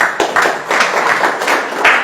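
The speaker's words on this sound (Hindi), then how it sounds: "एक बार ताली होना चाहिए।" Audience applause after a professor is introduced at an Indian gathering, a steady wash of many hands clapping together throughout, fairly close and loud with no talk over it.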